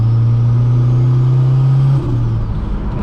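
A Mk2 GTS race car fitted with a 16-valve turbo engine holds a loud, steady rev with a strong low hum, then the pitch shifts and falls off as the throttle eases, close and without talk.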